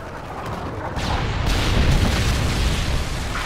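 A heavy missile explosion in Modern Warfare 3, a deep booming blast that swells in after a second and rumbles on loudly and continuously to the end.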